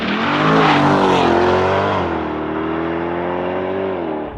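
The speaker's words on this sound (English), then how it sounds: "2024 Chevrolet Corvette E-Ray. With launch control." A 2024 Chevrolet Corvette E-Ray with a 6.2-liter hybrid V8 launching under launch control, a loud rising engine roar that climbs through the revs, drops at a gear change and pulls hard again.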